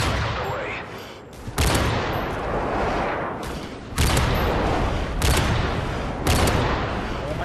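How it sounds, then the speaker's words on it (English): Call of Duty style airstrike: a series of heavy explosive blasts and booming impacts at intervals over a dense rumbling wash, with faint voices underneath. "Friendly airstrike on the way."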